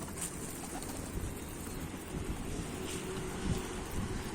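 Pigeons cooing inside a loft, faint low coos under steady wind and rustling noise, with a few soft bumps and no talk.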